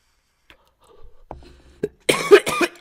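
Two or three sharp coughs near the end, preceded by faint scattered noises and a brief throat sound.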